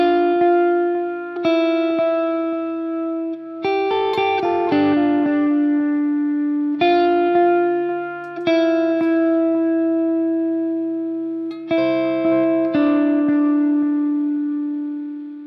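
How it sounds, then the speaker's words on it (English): Electric guitar through an MXR Carbon Copy analog delay pedal set to a long delay, plucked notes and chords ringing out with repeats trailing and fading behind each phrase, clear and sustained with no talking. "with the delay at 3 o'clock, it sounds like this"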